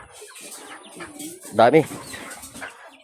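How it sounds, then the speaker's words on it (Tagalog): A chicken gives a short, close cluck amid soft outdoor ambience, with a person speaking quietly nearby. "Ito pa, may mga manok pa dito."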